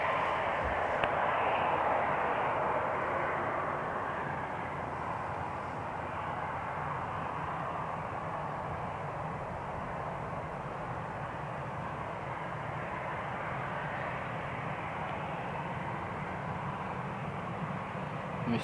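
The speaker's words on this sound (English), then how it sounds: "The first Dublin airplane from Aer Lingus" An Aer Lingus airliner at Amsterdam Schiphol Airport's Polderbaan runway, its engines a steady broadband roar held at an even level throughout, distant and continuous with no talk.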